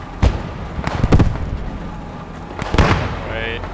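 Tank cannon fire in the WWII game Post Scriptum at Oosterbeek, with several heavy booming shots and rumbling blasts spread across a few seconds, mixed with voices talking over the fighting.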